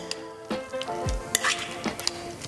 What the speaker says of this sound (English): I'm gonna go ahead and just mix this up really nicely and get it incorporated.